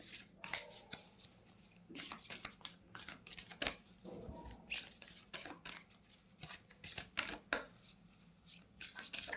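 A deck of cards is drawn out and shuffled by hand in a quiet room, giving repeated soft riffling and snapping bursts in an irregular rhythm, close and fairly faint.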